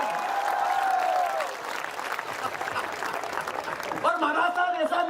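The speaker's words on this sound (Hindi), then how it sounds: "महाराज साहब के लिए जोरदार तालियां बजे यार।" An audience applauds at a Hindi comedy poetry gathering (hasya kavi sammelan): a steady, dense wash of clapping that runs the whole way through, with a voice talking over it at the start and again near the end.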